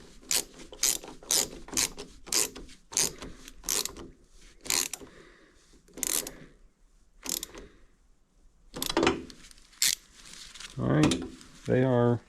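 A ratchet socket wrench tightens a bolt on a Kubota D905 diesel engine in rapid bursts of clicking, close up, with pauses between strokes and a voice speaking briefly near the end.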